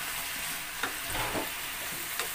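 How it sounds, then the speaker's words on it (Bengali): Fried lentil dumplings are stirred into a simmering bottle gourd curry. Soft stirring scrapes sit over a steady bubbling sizzle, close and fairly quiet. "এবার আমি এখানে যে ভেজে রেখেছি ডালের বড়িগুলো, সেগুলো এর মধ্যে দিয়ে দিচ্ছি।"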